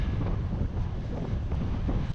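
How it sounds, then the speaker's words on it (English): Strong, steady wind roars and buffets the microphone high on a ski slope at Les Orres, a loud continuous rush with no voices. "there has been a lot of wind up here"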